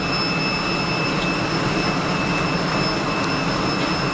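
An easyJet airliner's jet engines roar at Geneva Airport, a steady, loud broadband rush with a thin high whine running through it, unbroken for the whole stretch.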